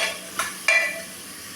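A spoon scrapes through chicken stew in a pan after salt is added, giving two sharp stirring knocks over a soft background sizzle. The sound is close and brief, with no voices.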